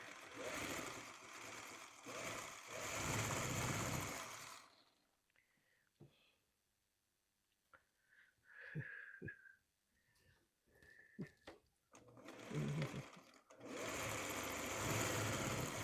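A sewing machine stitches a quilt block for a traditional garden path quilt in loud, steady runs at the start and end, with a quieter stretch of faint voice and small handling sounds between them.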